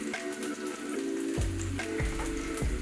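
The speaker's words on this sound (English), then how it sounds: "you hear that oil getting hot" Oil sizzles and crackles steadily in a hot pan, with a few dull clinks and bumps on top, close and fairly quiet.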